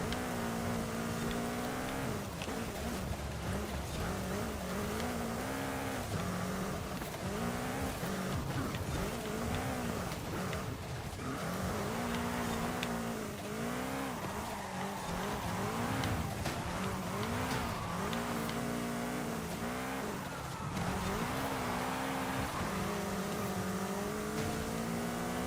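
Hoonigan Cosworth race car with Martin Skunk livery driven in Forza Horizon 5, its engine roaring and revving steadily throughout with bursts of tire squeal and skidding, loud and close.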